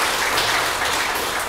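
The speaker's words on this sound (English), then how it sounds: "Round of applause for Dean" A workshop audience gives a dense, continuous round of clapping, loud and even throughout the short stretch with no voices heard.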